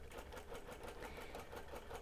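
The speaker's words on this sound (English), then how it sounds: "I'm using a 1/4 inch basting stitch because I have that capability on my machine and I like that stitch" Domestic sewing machine running a quarter-inch basting stitch through a linen-blend quilt, a steady fast mechanical whirring with rapid even needle clatter throughout, close and alone.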